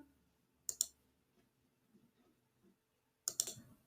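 Two quick pairs of computer mouse clicks, near and crisp, separated by a quiet stretch with faint background movement, during an account sign-up.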